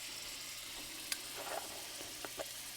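Pieces for a chicken curry cook in a pan with a soft, quiet sizzle, a faint steady hiss broken by a few small pops and clicks.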